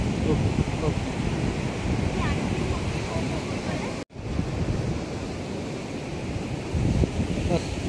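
Steady rushing surf from sea waves breaking on Talashil beach in Maharashtra, with constant wind noise across the whole stretch and a brief dropout partway through.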